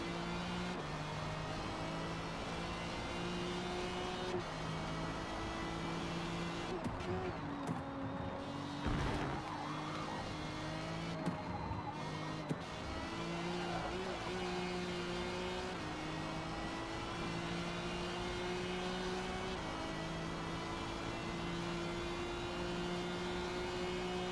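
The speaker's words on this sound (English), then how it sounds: "the V8 supercars, though, at Bathurst just sound crazy" V8 Supercars roaring around the Bathurst circuit in Forza Motorsport, several engines layered at a steady high drone with shifting pitch and a brief louder surge near the middle, continuous throughout with no talking.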